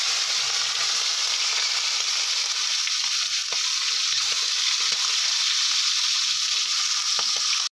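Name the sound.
fish frying in hot mustard oil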